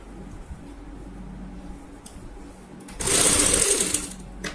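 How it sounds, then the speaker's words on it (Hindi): A sewing machine stitches a zippered box cushion cover, its motor running in a steady loud whir for over a second after quieter handling noises, heard alone with no talk. "यहाँ पे इस तरीके से सिलाई लगाते हैं"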